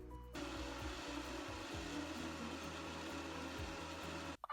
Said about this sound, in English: putting it in the blender and then blending it until it's smooth